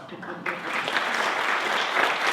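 Audience applause at a live darts session, steady clapping from a crowd swelling after a moment and continuing throughout, with a voice briefly audible at the start.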